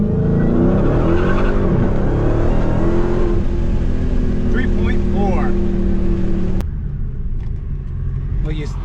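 A Dodge Challenger Hellcat Redeye Super Stock on a 0-60 run, its engine roaring loud and close as it rises through the revs, then cutting off abruptly to a quieter idle with someone talking over it.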